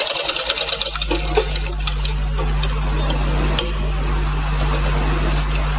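A tailoring sewing machine stitches piping onto a blouse piece, running in a steady close mechanical whir with a constant hum and faint ticks throughout, no voices.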